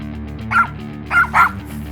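Dog barks in three short bursts, one then a close pair, near and clear over a steady low hum, at a rat-infested property where rats set off the barking.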